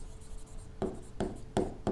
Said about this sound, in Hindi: मैं शॉर्ट में लिख देता हूं,